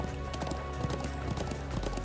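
Horse hooves clip-clopping in the video game Trails of Cold Steel 2, a steady quick trotting rhythm of hoof beats over game music, loud and continuous throughout.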